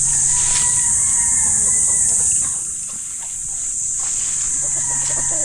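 Chickens on a farm clucking and calling, with a steady high buzzing background throughout and a brief dip in loudness midway.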